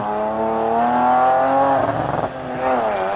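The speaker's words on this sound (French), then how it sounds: "Puis la BMW M3 de Joël Mogui." At the 2003 Arques-la-Bataille hill climb, a BMW M3 race car's engine rises in pitch as it accelerates, close and loud, then stutters through a brief gear change before revving up again.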